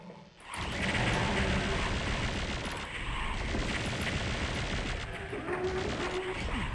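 Firing in the video game Doom 64 Retribution, with a continuous rapid stream of plasma gun shots and mechanical clatter. It starts abruptly after a short pause and stays at moderate loudness.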